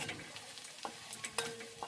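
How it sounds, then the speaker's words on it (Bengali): Onions fry in hot oil, a soft steady sizzle broken by a few sharp scrapes and clinks from stirring, fairly quiet and close. "পেঁয়াজগুলো এখন ভালো করে ভেজে নেব"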